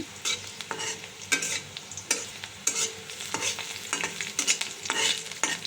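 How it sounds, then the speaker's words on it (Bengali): Garlic and onion fry in hot oil with a bright, crackling sizzle, broken by sharp scrapes and clinks of a spoon stirring the pan at close range, with no voices. "এইখানে রসুন পেঁয়াজ ভাজা ভাজা করে নিচ্ছি"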